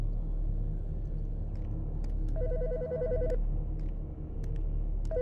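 A telephone rings in Autopsy Simulator in two bursts of rapid electronic trilling. Short clicks and a low rumbling hum sit underneath, and no voices are heard.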